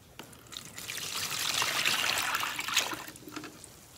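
Water pours from a container into a plastic bin, a steady trickling splash that swells in the middle and tapers off near the end, close and alone.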